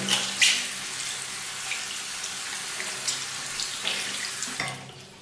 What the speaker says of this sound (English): This is how you wash the applicator pad.